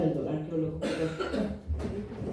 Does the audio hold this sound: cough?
yes